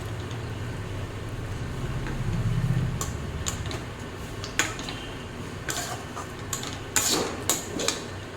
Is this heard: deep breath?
no